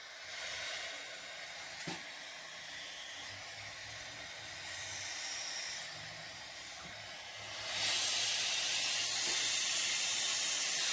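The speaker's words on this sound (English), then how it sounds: "You can feel the air coming out there, going in, down, up and around." Compressed air from a shop air line hisses through a car radiator, a steady airy rush that swells markedly louder toward the end, with no voices.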